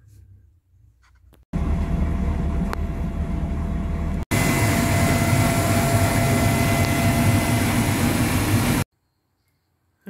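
A Mercruiser boat engine starts and runs after an oil change, a loud, close, steady roar that steps up once midway, then cuts off abruptly into silence.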